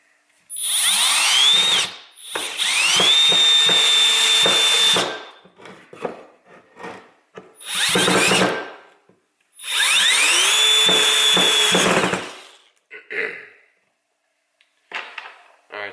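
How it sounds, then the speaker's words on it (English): A Milwaukee M12 FUEL 1/2-inch hammer drill whines up and drives a 3-inch screw into wood in three long bursts, pitch rising then steady under load, with short clicks and pauses between runs. "we're going to try and see if we can drill this 3-inch screw into this"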